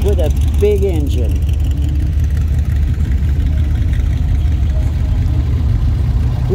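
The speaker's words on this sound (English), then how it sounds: "A tiny truck with a big engine." A small lowered truck with a big engine idles at a car show with a low, steady rumble close by while people talk over it at the start.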